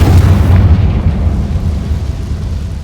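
A Confringo spell explosion in the Hogwarts Legacy video game goes off as a loud, deep boom that rumbles and slowly fades over a few seconds, with no speech.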